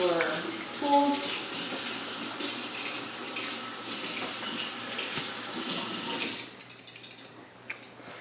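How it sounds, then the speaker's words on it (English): Tap water runs steadily into a kitchen sink while tools used for a chocoflan mixture are washed and rinsed, a loud, close rushing stream with faint clinks that cuts off near the end, leaving quieter room sound. "you just want to wash and rinse your tools."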